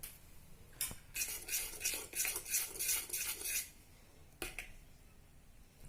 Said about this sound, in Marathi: दूध पण ओतूया त्या मिश्रणात आणि मैदा घालून मिक्स करायचं